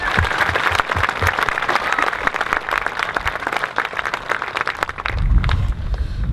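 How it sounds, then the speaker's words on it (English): Audience applause for the teachers at a Bonsall High School graduation ceremony: a sustained, dense burst of many hands clapping, loud and even, with a low rumble of the crowd swelling near the end. "Can we get a round of applause for our amazing teachers here at BONSALL High?"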